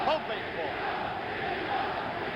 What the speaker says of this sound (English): Crowd chanting, Jimmy Young